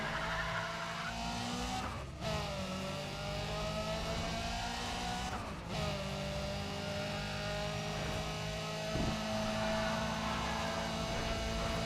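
A Zonda supercar engine roars steadily in Need for Speed ProStreet racing, with sustained high revs, brief dips at gear shifts, and tire squeal, fairly faint and without talk.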